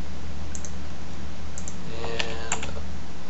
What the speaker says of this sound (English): Use the shortcut on the keyboard,